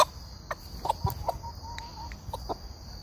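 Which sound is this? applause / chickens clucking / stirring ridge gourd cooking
chickens clucking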